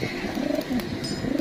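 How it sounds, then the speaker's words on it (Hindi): Imamdeen (Kasuri golden) pigeons coo close by in soft, rolling low calls, several overlapping burbles across a brief moment with no talking. "बेसिकली ये इमामदीन कबूतर हैं जो कि कसूर के शहर लनियानी से"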